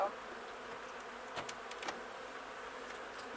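Honey bees buzz steadily around an open hive during an apiary inspection, a faint continuous hum with a couple of brief louder passes near the middle.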